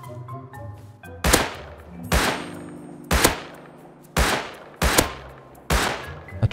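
Gunfire in the survival game Rust: six loud, sharp shots in irregular succession, each with a ringing decaying tail, over a faint low background hum.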